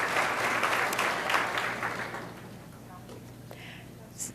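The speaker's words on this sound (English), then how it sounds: "applause." Audience applause at a school board meeting honoring a student art winner from Heritage High School, a broad clapping wash that is strongest at the start and fades to a thin patter by the end.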